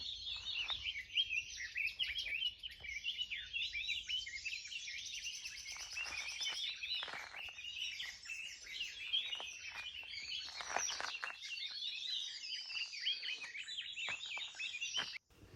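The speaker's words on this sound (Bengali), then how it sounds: "চারিদিকে পাখি ডাকছে" Many birds chirp and call continuously from all around along a mountain road in Jhandi, Kalimpong, some near and some farther off, with dense overlapping song and no talking.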